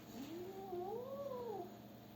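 Two cats caterwaul in a fight, a drawn-out rising and falling yowl that is close and fairly quiet, with no talk over it.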